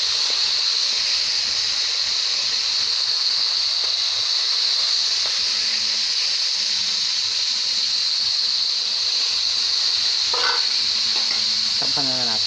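Bottle gourd and string beans sauté in a very hot pan, giving a loud, continuous sizzle and hiss throughout, with a few brief clinks of stirring near the end.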